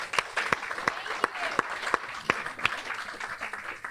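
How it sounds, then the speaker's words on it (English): An outdoor crowd at a nature preserve ribbon cutting gives a round of applause, heard as sparse, fairly faint clapping with a few sharp individual claps standing out. "So let's give them a round of applause."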